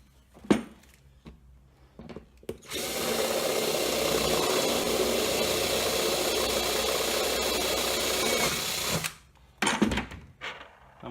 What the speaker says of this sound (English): And now I can drill for the second one.